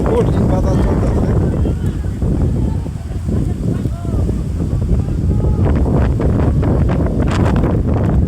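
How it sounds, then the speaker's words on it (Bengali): Strong wind roars across the microphone outdoors on a rainy cycling outing in Sreepur, Gazipur. It is loud, continuous and gusty, buffeting throughout, with muffled voices faintly mixed in. "বাতাস, কঠিন বাতাস চলতেছে।"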